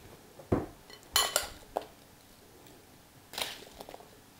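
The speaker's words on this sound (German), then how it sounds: "Damit die Apfelstücke nicht braun werden, werden sie noch mit Zitronensaft verrührt." A spoon stirring apple pieces with lemon juice in a bowl, several scattered clinks and scrapes against the bowl, close and quiet with pauses between them.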